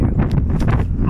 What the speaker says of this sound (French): il y a trop de vent là